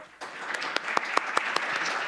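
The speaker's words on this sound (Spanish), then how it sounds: "Le damos un aplauso también, por favor." Brief applause from a conference audience at a regional technical dialogue on prison management in Latin America, welcoming a speaker with a short burst of scattered claps and a few distinct sharp hand strikes over about two seconds.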